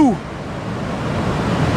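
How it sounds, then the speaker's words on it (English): Nabuyole waterfall in Webuye, Kenya roars as a broad, steady rushing wash of falling water, close and constant, after a voice briefly trails off at the start. "this is Nabuyole Waterfalls"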